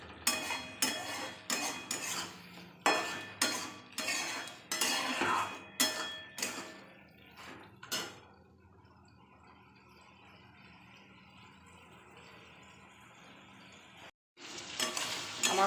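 Ridge gourd and potatoes stir-fried in a pan, a series of loud rhythmic spatula scrapes and clinks for several seconds, then a low steady sizzle, with a brief clatter near the end.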